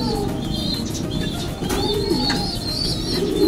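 Pigeons bred as racing or show birds coo repeatedly in a loft, a steady low rolling murmur with occasional higher chirps, close and continuous with no talking.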